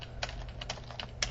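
Keys on a computer keyboard are tapped in short, uneven clicks at close range over a low steady background hum.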